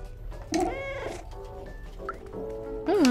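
A cat meows repeatedly in the video game Stray, several drawn-out, wavering cries close and fairly loud over a quiet background, with a final rising meow at the end.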